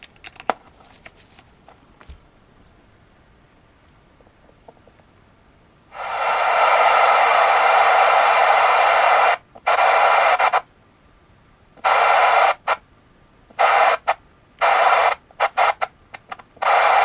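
An Audioline 340 CB radio with a dirty squelch pot bursts into loud hissing static, first a long sustained rush, then choppy broken bursts cutting in and out as the control crackles.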